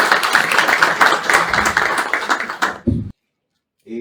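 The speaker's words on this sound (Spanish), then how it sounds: "¿Qué les parece si le damos un aplauso de bienvenida esta mañana?" Welcoming applause from a conference audience at a scientific congress, a dense burst of hand clapping lasting about three seconds before cutting off abruptly, followed by silence and a brief faint sound.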